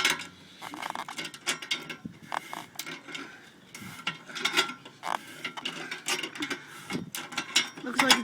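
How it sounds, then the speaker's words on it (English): Channel lock pliers grip and twist a hole-saw exhaust insert counterclockwise out of a car exhaust tip, giving a run of close metallic clicks, scrapes and rattles in irregular bursts, with no talk. "I turned it in a counterclockwise motion while pulling out from the exhaust to get it out"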